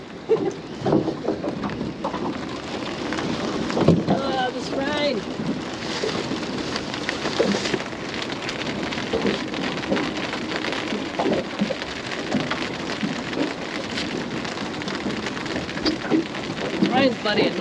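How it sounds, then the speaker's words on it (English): Rain patters steadily on a fishing boat off Whangarei, a dense hiss of drops across the whole stretch with occasional louder splashes and a distant rumble, under brief talk. "Rain's bloody annoying."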